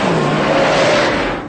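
Police car engine during a car chase, revving hard in a short, loud burst with its pitch climbing over steady road roar.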